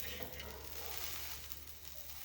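Food sizzles and fries in a kadhai, a soft continuous crackling hiss held evenly throughout, quiet and close, with no voices.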